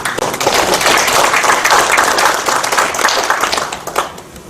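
A crowd at a political farmers' and fishermen's rally claps loudly and vigorously to welcome a speaker, a dense sustained burst of applause that thins near the end.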